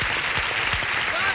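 A concert audience applauds as a country singer is brought on stage, a steady wash of clapping throughout that sounds moderately distant, with faint voices mixed in.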